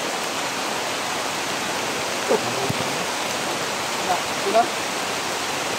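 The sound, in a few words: rain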